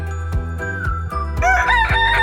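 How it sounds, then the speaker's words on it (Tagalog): A rooster crows loudly nearby, a long strained call rising and falling, over steady rhythmic background clatter. "Sige, nagsyagit ng mga manok pa."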